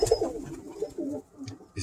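A pigeon coos close by in a short, soft burst of low throaty notes, with a brief pause before a final coo.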